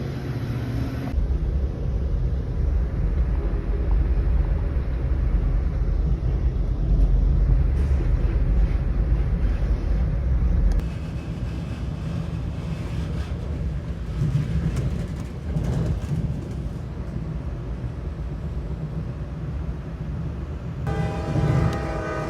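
Steady rumble of a commuter train ride heading out toward Mount Juliet, a continuous low roar with wind noise that drops in level partway through, no voices.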